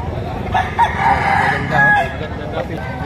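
Rooster crowing at a busy chicken market, a couple of fairly loud calls rising over steady crowd noise and a voice talking.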